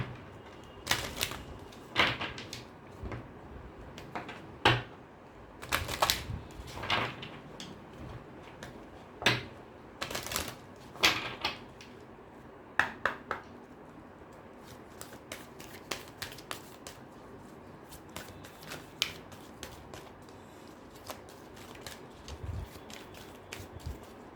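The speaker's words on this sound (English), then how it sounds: "Let me just pull one oracle card from the Ask Angel Oracles" Oracle cards from the Ask Angel Oracles deck being shuffled and drawn, giving a string of quiet, crisp card flicks and riffles in irregular bursts, close by with no talking.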